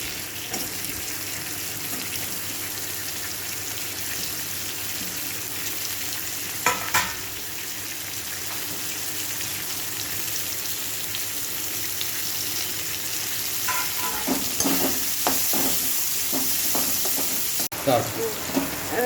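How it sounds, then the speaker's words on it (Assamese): Chopped onions frying in oil for chicken curry, a steady loud sizzle throughout with bursts of stirring and scraping near the end. "এতিয়া মই কাটি থোৱা পিঁয়াজখিনি দিম।"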